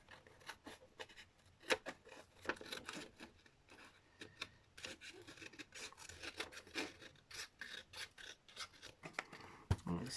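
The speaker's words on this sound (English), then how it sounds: "so we're just gonna trim up along here" Trimming the edge of a junk journal storage box gives close, quiet, scratchy rasping cuts in irregular short bursts, with no talking.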